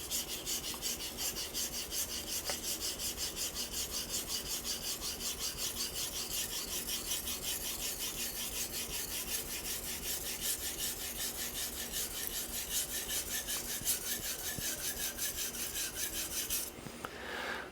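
Knife steel grinds back and forth on a Japanese natural whetstone, a Tenjyo Mikawa Nagura, in a steady, close, rhythmic rasp of even strokes that continues throughout with no voices.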